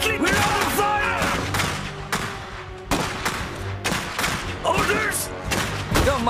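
Gunfire and mortar blasts in the Iron Harvest strategy game, loud clusters of repeated shots and heavy thuds in bursts, with a game voice speaking over parts of the battle.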